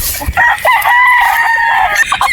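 A straight comb broodstag rooster gives one loud, close crow that fills most of the moment, with faint clucking and yard noise around it.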